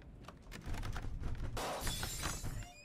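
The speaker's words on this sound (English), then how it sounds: "everything's just getting smashed up now" Objects smashing in the game Avarice: scattered clicks and knocks build into a sudden loud shattering crash of breaking glass midway, followed by lingering crunching debris.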